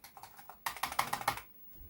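Keys tapped on a Commodore 64 keyboard under repair: a quick run of about a dozen crisp, clacky keystrokes in a steady rhythm, heard up close and fairly quiet, with no speech.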